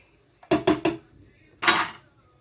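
A utensil stirring white sauce in a pot, three quick metallic scrapes in a row followed by a longer, louder scrape after a pause, close up with no talking.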